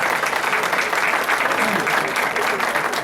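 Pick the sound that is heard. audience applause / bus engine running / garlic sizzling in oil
audience applause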